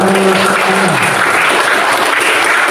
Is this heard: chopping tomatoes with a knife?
no